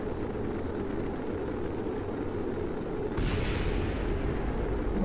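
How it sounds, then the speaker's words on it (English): A spacecraft service module blowing apart in Kerbal Space Program, heard as a steady roaring rumble that swells into a louder, brighter burst about two-thirds through, with no voices over it. "My service module exploding up there."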